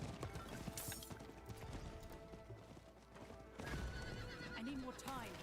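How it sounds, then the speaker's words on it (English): A horse in the Diablo 4 video game whinnies and its hooves clip-clop at a gallop, game music and effects layered beneath, with a person talking over parts of it. "I just jumped off the horse."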